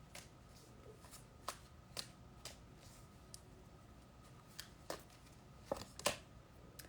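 Oracle cards are shuffled close by in quiet, irregular soft riffles and sharp ticks and snaps, louder toward the end, with no speech.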